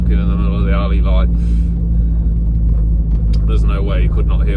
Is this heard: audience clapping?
no